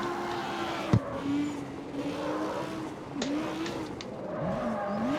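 A Lamborghini in the street-racing video game CarX Street, fitted with oversized rear tires, revs and skids with wavering tire squeals over a steady engine drone, with a sharp knock near the start.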